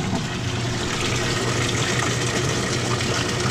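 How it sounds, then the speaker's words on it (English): Water drains from the radiator of an International 300 tractor during a flush, a steady, loud, continuous gushing rush without pause or talk. "That's the radiator I'm draining."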